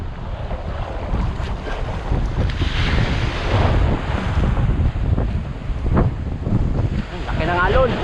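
Gusting wind buffets the microphone over rolling ocean waves and surf on open water off Palawan during light-tackle fishing from a boat, a loud continuous rumble with faint voices underneath.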